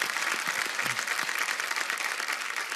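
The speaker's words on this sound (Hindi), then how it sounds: "जोरदार तालियां हो जाए सागर की माँ के लिए।" Audience applause fills a TV dance show studio, steady dense clapping heard at a distance without a break and no voices on top.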